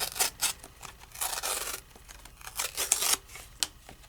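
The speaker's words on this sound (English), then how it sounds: "Now when you tear, you never tear backwards, you always tear towards you." Tim Holtz Core'dinations craft core paper is torn by hand in short bursts, with close, crisp ripping and scratchy rubbing noises coming in uneven strokes against a quiet background.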